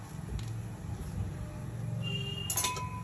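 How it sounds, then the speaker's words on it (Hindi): Metal lid set onto a pressure cooker holding jackfruit pieces in a home kitchen: soft handling rustles, then a bright metallic clink and clatter near the end, close and fairly loud, with no talk. "इसमें हम ऊपर से"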